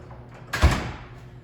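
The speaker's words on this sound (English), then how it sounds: "I'm just gonna close the door" A door in a home kitchen is shut with a single soft thud and a brief rattle, close by and moderately loud, followed by quiet room noise.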